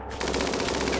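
Sustained automatic gunfire in the video game RimWorld (Alpha 12) during a fight with scythers and centipedes, a steady rapid rattle of shots that cuts in abruptly and continues loudly without voices.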